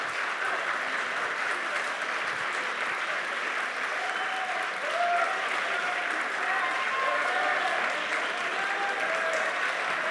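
A large audience applauds steadily at the close of a debate on the origin of life, with a few whistles and cheers rising over dense, sustained clapping that holds the same level throughout.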